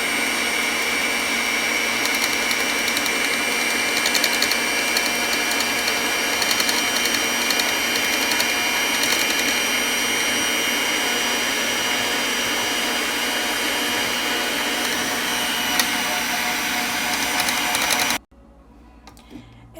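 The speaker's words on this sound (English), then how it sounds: "So we're going to blend it until the mixture turns into a light brown in color." A dalgona coffee mixture whipped in a blender: a loud, steady motor whir with a whining high edge runs continuously for about eighteen seconds, then cuts off abruptly into quiet.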